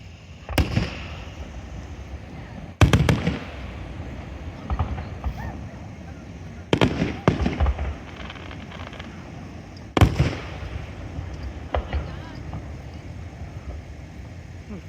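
Fourth of July fireworks burst at night, four sharp loud booms spaced a few seconds apart, each followed by crackling and a fading rumble, with people talking faintly in between.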